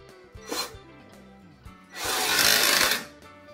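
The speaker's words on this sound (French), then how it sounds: "je décide de repasser un petit coup de perceuse" A power drill motor whirs briefly with a short buzzing burst, then a louder, sustained grinding whine runs for about a second before stopping, while fitting the door of a masonry stove.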